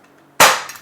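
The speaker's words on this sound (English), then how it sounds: "Now in the first series we fired off the whole magazine, so 14 rounds." One sharp crack from an Umarex Glock 17 Gen5 6mm airsoft pistol firing a single round, abrupt and close, briefly trailing off after a quiet lead-in.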